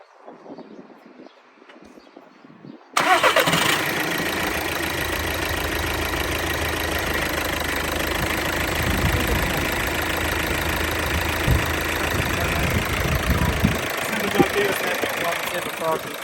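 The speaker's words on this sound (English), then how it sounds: "Let's see how she runs." A 1.6 TD diesel engine in a Skoda Octavia II hatchback cranks over and catches after a quiet moment, then settles into a steady, close, rattly idle that runs on without a break.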